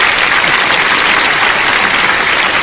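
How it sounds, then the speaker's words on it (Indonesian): An audience bursts into loud, sustained applause for a speaker at a talk, dense clapping that runs steadily for a few seconds before cutting off. "tepuk tangan buat Bang Damang."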